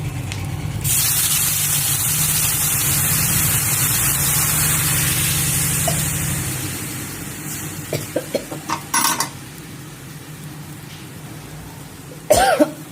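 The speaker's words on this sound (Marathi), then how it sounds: "आता ह्याच्यात पाणी घालायचं." Water pours steadily in a rushing stream into a pot for pithla bhat for about six seconds, then tapers off, followed by a few light clinks and a short knock.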